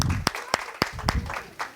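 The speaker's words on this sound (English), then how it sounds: "should we all clap for AJ and Peyton?" A handful of sharp, separate claps from a small group of teachers at a classroom conference session, a brief uneven patter lasting under two seconds with murmuring voices underneath.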